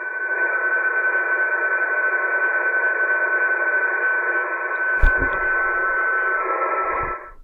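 Steady band-limited ham radio static hiss on the 20-meter band with a faint constant tone, briefly interrupted by a click and low thumps near the end.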